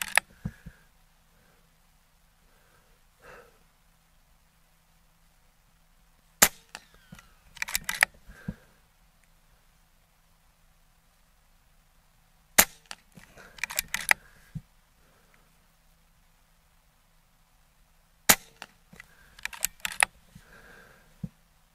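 An Air Arms S510 XS air rifle fires pellets: four crisp, sharp cracks spaced several seconds apart, each followed by a short burst of mechanical clicks from the action being cycled, close and otherwise quiet.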